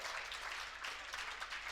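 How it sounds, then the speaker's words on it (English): A football crowd at a Stockport County versus Torquay United match applauds striker Harry Cardwell, a brief steady patter of clapping heard from a distance. "Good applause for Harry Cardwell."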